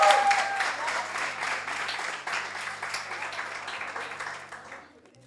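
An awards show audience applauds nominated TikTokers, a broad wash of clapping that starts loud and tapers off toward the end, with a low hum beneath.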